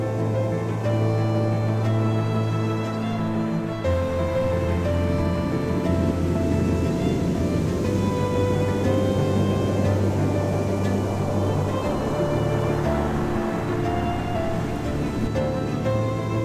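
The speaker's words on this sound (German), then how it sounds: "Die donnernden Wellen des Atlantiks treffen mit einer gewaltigen Kraft auf die Küste" Powerful Atlantic surf pounding the black sand of Reynisfjara beach in Iceland in winter, a continuous heavy roar of breaking waves with deep rumbling surges, close and loud throughout with no voices.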